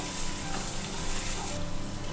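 Chopped onion, green chillies and cabbage sizzle steadily in hot oil for a spring roll filling, a dense continuous frying hiss close by with faint stirring and no voices.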